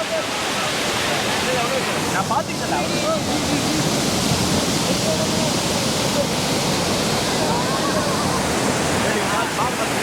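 Lakkam waterfall in Eravikulam National Park rushes steadily, a continuous close roar of falling water for the whole stretch, with faint voices and wind underneath.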